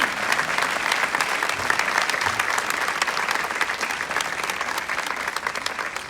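A school graduation ceremony audience claps steadily, a broad, even wash of many hands that stays constant, with no speech on top.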